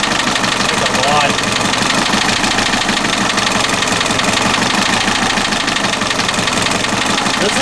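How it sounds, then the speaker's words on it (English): A VW TDI MK4 diesel engine idling after a no-start repair, a steady close knocking rumble under loud, continuous wideband noise. "This is the quietest diesel engine I've ever heard."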